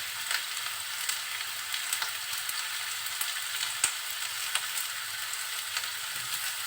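Pointed gourd and potatoes fry in a pan with a soft, continuous sizzle, broken by occasional light clicks and scrapes as the vegetables are stirred; fairly quiet and without talk.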